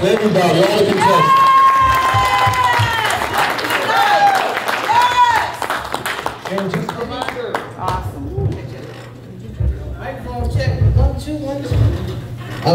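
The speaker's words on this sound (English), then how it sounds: "let's give a round of applause for everybody." An audience claps and cheers for the contestants at a talent show, crowd noise swelling under loud talk and then fading to scattered applause.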